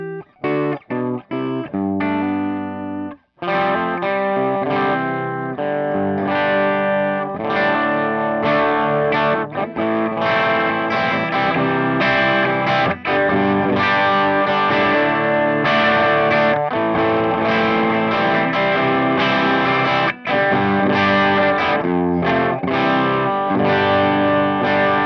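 A guitar through a BuzzTone Megaplex Stage 3 plexi-style amp with the treble channel in the low position, played as dense, driven chords and riffs after a few sharp opening stabs, loud and continuous with no talking.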